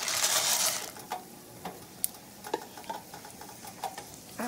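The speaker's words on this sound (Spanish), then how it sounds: "Ahora en el mismo aceite donde doré los ajos, voy a echar la semilla" Seeds toast over low heat in oil left from browning garlic in a pan, giving a soft, quiet crackle dotted with scattered light ticks and taps as they are stirred, with no talking.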